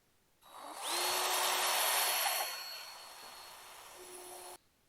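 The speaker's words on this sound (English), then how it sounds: "we're going to pre-drill through the center of the hat and put a nail" A power drill pre-drills through the center of a wooden hat for a Christmas craft: one steady, high whirring run of about four seconds that bogs down a little partway through, close and loud, with no talking.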